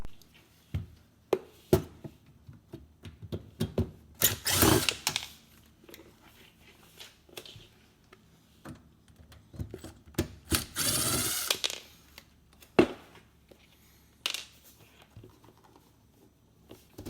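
Front fascia plates come off a dishwasher during installation: scattered clicks, taps and small plastic and metal clatters, with a few louder scraping bursts, close by and without talk.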